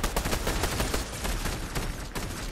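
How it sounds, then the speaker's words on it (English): Fortnite's explosive repeater gun firing, a dense rapid stream of sharp pops and crackles running loud and continuous throughout, without talk. "Explosive repeater. It just sounds cool"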